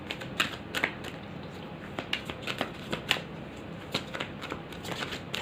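Tarot cards shuffled by hand in a quiet room, a steady run of soft riffling flicks and sharper card snaps repeating close by, with no talking.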